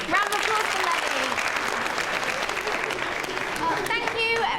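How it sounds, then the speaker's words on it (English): Audience applause in a school classroom drama scene, continuous clapping at moderate level with a few voices mixed in throughout. "Round of applause for Levy."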